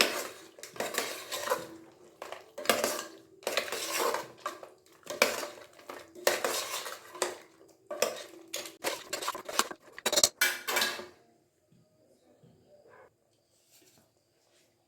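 Ground roasted masala is stirred into mutton head curry in a metal pot, producing rapid, loud clattering scrapes of a spoon against the vessel in bursts for about eleven seconds, then near silence.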